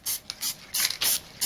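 Several quick bursts of spray from a hand spray bottle misting fabric fringe for a bag, sharp hissy puffs in an uneven rhythm, close and fairly loud with no talking.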